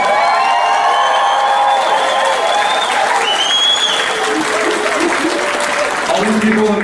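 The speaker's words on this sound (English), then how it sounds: "get a round of applause for all the graduates" Loud, continuous applause from a crowd at the Leech Lake Tribal College 2014 graduation, honoring the graduates, mixed with cheers and whoops throughout.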